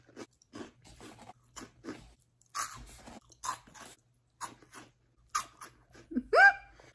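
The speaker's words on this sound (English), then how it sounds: "I'm drinking cheese balls." Crunchy cheese balls eaten up close, with a series of crisp bites and chewing crunches spread through the clip, separated by short quiet gaps, loud and near the microphone.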